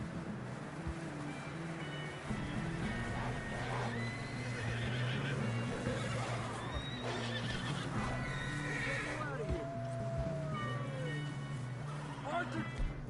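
Horses neighing with hoofbeats in a Western action scene of the video game Red Dead Redemption 2, loud whinnies over steady clip-clopping, with voices talking throughout.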